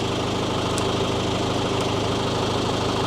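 A tractor engine runs at a steady idle to power skylift controls, a continuous mid-pitched drone with faint rhythmic knocking, no voices.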